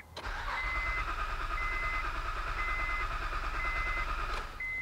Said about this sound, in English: So then we're just gonna go ahead and crank the engine over.